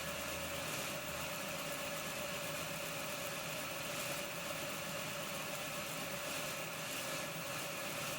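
The motor of an Accurascale Deltic model locomotive runs continuously with a thin, buzzing, uneven whine, steady in level and close by, with no voices.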